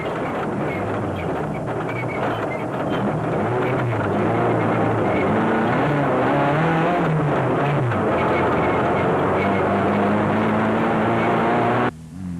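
Rally trucks, a Castrol Toyota Hilux and a Team Ford Racing Ranger, race in the Sugarbelt 400 of 2005, with a loud, continuous engine roar that surges and drones throughout.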